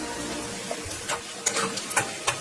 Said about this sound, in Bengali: পেঁয়াজটা বাদামি কালারের জন্য অপেক্ষা করতেছি